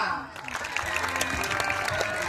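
Audience at a college annual gathering and youth festival clapping, a dense burst of applause from a crowd that swells after a brief quieter start, with voices mixed in.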